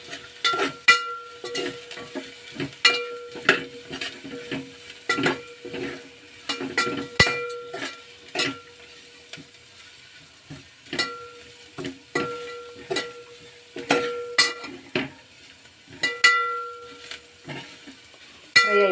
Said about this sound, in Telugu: కొంచెం పచ్చివాసన పోయేంత వరకు ఫ్రై చేసుకుందాం దీన్ని.